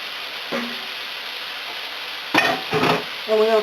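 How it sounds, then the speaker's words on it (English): Carrot pulp is stirred in a hot pan, a steady sizzle underneath with a few brief scraping strokes of a utensil toward the end, close by and with no talk. "And we're going to stir that up."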